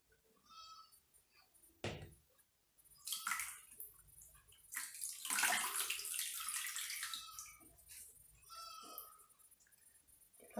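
Water running and splashing as a soft cloth is wetted, a steady rush building in the middle of the clip with a few scattered drips and knocks around it.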